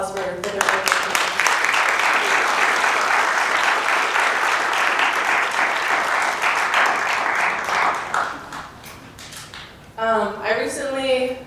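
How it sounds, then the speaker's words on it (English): Sustained audience applause at an Indigenous pageant, steady and fairly loud for about eight seconds before fading, after which a voice begins speaking. "So we can just give a round of applause for their work."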